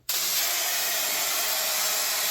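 A turbo spray can sprays bed liner onto the rusted cab floor of a 1984 Ford F250, giving a loud, steady broadband hiss that starts abruptly and continues unbroken with no talking.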